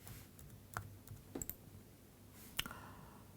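A computer mouse clicks a few times in COMSOL simulation software, with soft, sparse, quiet clicks set against a faint room hum.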